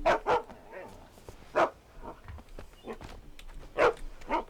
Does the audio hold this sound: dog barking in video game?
yes